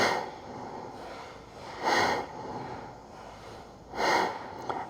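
Forceful nasal exhalations from Kundalini yoga Breath of Fire come as two sharp, breathy bursts about two seconds apart. They sound close and fairly quiet, with soft breathing between them.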